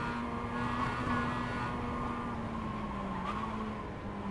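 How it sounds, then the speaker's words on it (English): A race car in iRacing holding a steady engine tone, with a slight pitch shift as it brakes hard, heard as a continuous moderate drone from the cockpit with no talk. "Nice heavy braking coming into this section"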